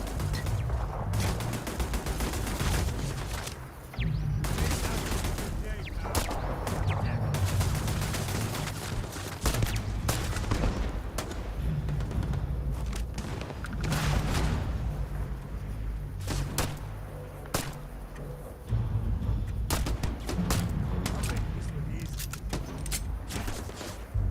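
Pistol gunfire in Starfield: repeated sharp shots at an uneven rhythm over a steady rumbling background, loud and continuous across the whole stretch.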